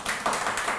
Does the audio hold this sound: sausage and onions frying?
no